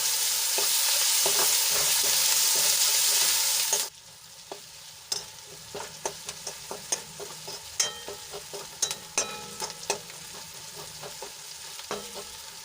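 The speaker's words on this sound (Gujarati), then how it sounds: "ડુંગળીને સરસ રીતે તેલમાં મિક્સ કરીને ગોલ્ડન બ્રાઉન થાય ત્યાં સુધી આપણે એને ચડવા દઈશું" Chopped onions fry in oil for a cabbage dish, a loud steady sizzle that suddenly drops, then quieter frying punctuated by repeated clinks and scrapes of a spoon stirring in the pan.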